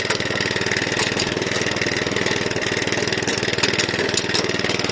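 Oleo-Mac 155K garden cultivator engine running steadily at close range, a loud continuous small-engine drone with a fast even pulse and no voices.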